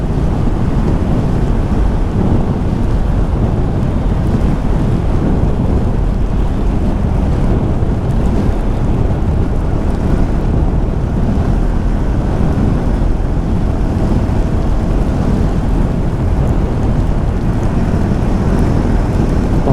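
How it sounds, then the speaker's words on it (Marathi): Dense, steady roar of heavy rain with thunder rumbling underneath, on the Mumbai-Goa highway, constant and loud throughout with no pauses. "शा पावसाने थांबवलं आपल्याला"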